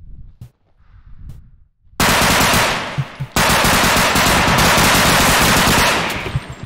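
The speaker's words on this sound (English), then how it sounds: "you can see that I unload a clip in him" A gun empties a full magazine in the game Bodycam. After a few faint knocks, a loud, sustained burst of automatic fire runs to the end, broken by one short pause.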